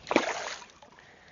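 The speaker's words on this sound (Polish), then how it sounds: "O, ale pluska." A fish splashes once in river water while angling for chub in summer, a short close burst of splatter that fades into quiet sloshing.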